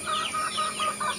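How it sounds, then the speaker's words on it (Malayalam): Fayoumi hens on a farm clucking in quick, close, moderately loud bursts, a short run of rising and falling clucks with no talking. "ഇത് നമ്മളെ ഒരു സുന്ദരി കോഴിയാണ് കേട്ടോ, ഫയോമിക് കോഴി."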